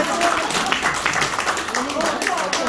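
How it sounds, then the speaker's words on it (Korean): An audience at a Democratic Party political lecture in Busan claps steadily throughout, a dense, even patter of hands with a voice speaking over it. "박수"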